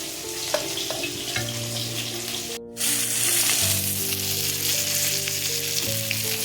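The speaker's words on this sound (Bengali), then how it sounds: "আমার সব মাছ ভাজা হয়ে গেছে" Rohu fish pieces fry in oil with a dense, loud, bubbling sizzle that cuts out for a split second, then returns even louder, over steady humming tones in the background.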